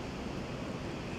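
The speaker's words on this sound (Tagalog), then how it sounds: "Pakita ko ulit sa inyo yung dagat." Sea waves wash onto a beach at Umiray, Dingalan, Aurora, making a steady, moderately faint surf hiss with wind across a brief stretch and no voices.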